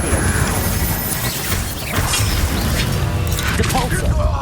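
A fire spell cast in the Hogwarts Legacy video game, a sustained fiery burst woven into a dense, busy layer of battle clatter, booms and mechanical rattles that runs loud and steady throughout.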